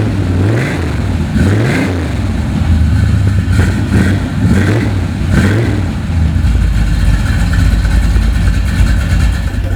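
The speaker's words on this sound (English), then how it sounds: "how about we start this crazy engine car up?" A 1978 Chevrolet Corvette 25th Anniversary Edition engine cranks, catches and revs a few times, then settles into a loud, steady rumbling idle, heard up close with no talking.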